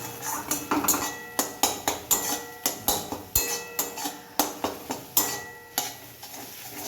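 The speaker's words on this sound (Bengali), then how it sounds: "প্রথমে কড়াইতে তেল দিয়ে আমি দুটো ডিম আর একটু লবণ দিয়ে এটাকে ধীরে ধীরে করে ভেজে নেব।" Two salted eggs fry slowly in oil in a kadai, a steady close sizzle broken by rhythmic spatula scrapes and taps against the pan, about two per second, with no voices.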